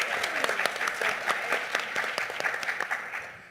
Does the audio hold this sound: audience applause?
yes